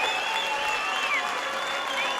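An arena crowd at a European judo open in Prague claps steadily and densely throughout, a sustained wash of applause with faint whistles rising over it and no clear speech.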